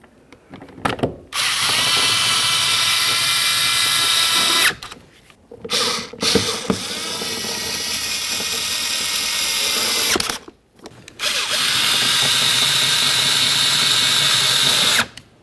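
A cordless power drill drives mirror panel mounting screws on a 2008-2017 Buick Enclave side mirror, three loud sustained whirring bursts separated by brief pauses, close up with no talking.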